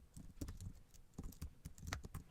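Soft, quick typing on a computer keyboard, with irregular bursts of light key clicks and short pauses, heard close and quiet.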